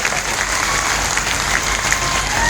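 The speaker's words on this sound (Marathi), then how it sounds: "माझ्यासाठी एकदा जोरदार टाळी द्या रे बाबा" A crowd at a Marathi shahir folk performance bursts into steady, loud applause, dense clapping sustained throughout without letup.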